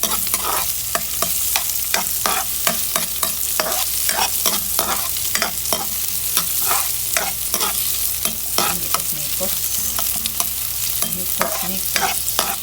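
Onions sautéing in a separate frying pan for a chicken-in-Sprite dish, a steady loud sizzle broken by repeated sharp scrapes and clacks of a utensil stirring, with no talk.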